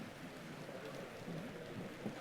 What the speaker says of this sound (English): are you going to run away because it's raining?